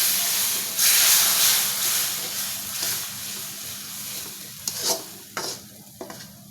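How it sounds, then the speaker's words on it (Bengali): About one and a half kilos of meat fries as bhuna in a pan, with a continuous close sizzle under steady stirring and a few sharp clanks of the spoon toward the end. "একটু মাংস ভুনা করব"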